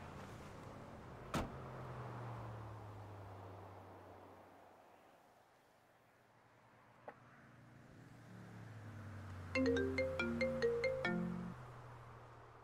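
A phone ringtone from an in-game call in a GTA roleplay game, a short bright melodic ring near the end over low vehicle rumble and a couple of faint clicks.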